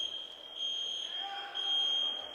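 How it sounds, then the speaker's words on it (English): A fire alarm sounds inside the Onondaga Nation Fieldhouse during a lacrosse game, a high steady electronic tone that cuts in and out in long pulses over quiet crowd murmur and voices. "there is a fire alarm currently going off in the Onondaga Nation Fieldhouse"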